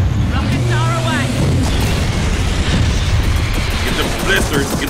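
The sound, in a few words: rockets launching and exploding in video game Gears of War 4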